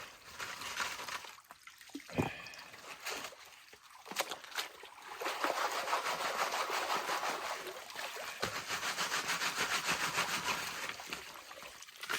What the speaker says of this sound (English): mash that clay up good